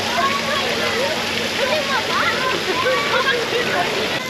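Constant rushing spray and splashing from a small water park section at the Flamingo Land zoo on a humid day, close and loud, with excited children's voices calling over it.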